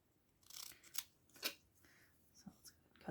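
Scissors snip through paper for a Halloween mini junk journal, a few separate quiet crisp cuts spread out and heard up close with no talking.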